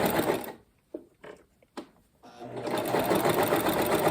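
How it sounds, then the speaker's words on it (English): A sewing machine stitching in the ditch across a quilt from middle to edge, a loud close whirring run that stops for a pause with soft clicks, then resumes steadily, with a voice speaking. "And stitch in the ditch. We're going from the middle of the quilt all the way to the edge."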